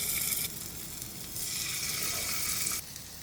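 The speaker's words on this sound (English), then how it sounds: "Heat 2 tablespoons coconut oil and gently place the fish in the oil." Steady coconut oil sizzle and crackle of fish frying in a pan, fairly loud and continuous, with a brief quieter dip near the end.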